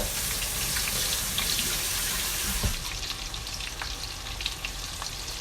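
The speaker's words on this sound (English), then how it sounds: "Let me wash my hands." Running tap water pours steadily in a kitchen sink as hands are washed, a broad continuous hiss with a brief knock midway, with oil sizzling softly from a nearby pan.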